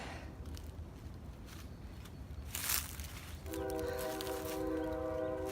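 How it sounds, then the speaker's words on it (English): A distant train rumbles along, then its horn sounds in a long, sustained blast over the steady rolling noise. "Train."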